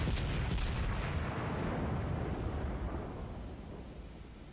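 Booming ship cannon fire in World of Warcraft: a sharp opening blast followed by a rolling, rumbling roar that slowly fades, with no voices.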